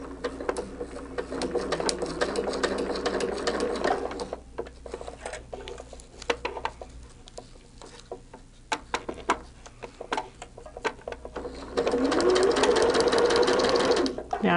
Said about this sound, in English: press our foot down, and then we're going to start stitching.